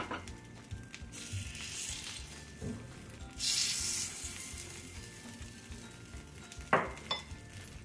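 Semolina appe cook in an appe pan with uneven sizzling bursts, a few light metallic clinks and a brief louder hiss partway through, close by and without talk.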